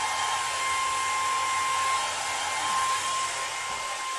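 A hair dryer blowing steadily on coloured rippled sycamore wood, a loud, continuous close whine and rushing air with a constant pitch and no pauses.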